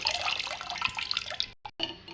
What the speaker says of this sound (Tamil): புளி தண்ணி இதில் சேர்த்துக்கலாம்